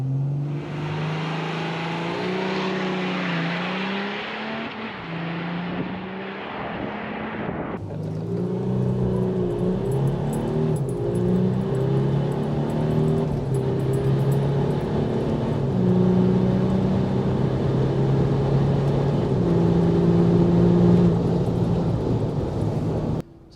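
A V6 pickup truck launches hard from standstill in off-road mode and second gear with traction control off, its engine revving up through rising, climbing tones that grow louder and stay strong for about twenty seconds.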